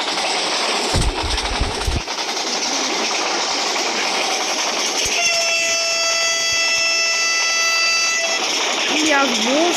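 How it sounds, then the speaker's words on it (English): Vande Bharat Express passing Vaniyambadi Junction at about 180 km/h, a loud continuous rush of rail noise with a sustained horn tone through the middle section and voices over it. "India's most fastest train, Vande Bharath Express, running at a speed of 180 km per hour, crossing Waniambadi Junction"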